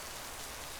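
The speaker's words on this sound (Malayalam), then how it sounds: "എന്ത് ഭയങ്കര മഴയാണിത്." Heavy rain pours down steadily in a dense, continuous hiss of drops on surfaces, loud and close with no pauses.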